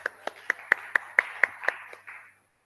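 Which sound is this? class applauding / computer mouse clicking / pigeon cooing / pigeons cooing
class applauding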